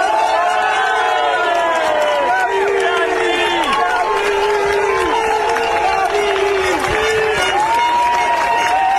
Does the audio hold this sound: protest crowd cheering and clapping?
yes